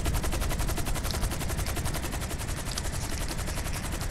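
Rapid automatic gunfire in Grand Theft Auto V, a dense, continuous burst of loud shots filling the whole stretch with no talking.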